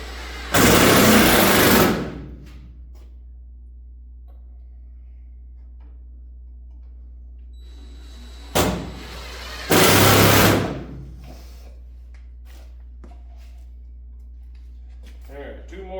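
A power drill drives screws through layers of tin into the wood of a 1964 Little Champ camper, two loud buzzing bursts of about a second each, well apart, with a short blip just before the second.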